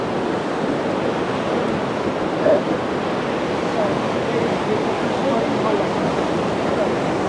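A flooded river in Himachal rushes after a cloudburst near the Bhuntar nala and the airport wall, a loud, continuous broadband roar of churning water with no pauses.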